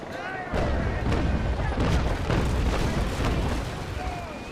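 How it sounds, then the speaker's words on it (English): Ship cannons fire in rolling broadsides during a Naval Action naval battle, a dense series of deep booms and thuds overlapping into a continuous heavy rumble, loud and close. "Now I'm gonna go a little bit on the offense, where I fire 2 broadsides at him"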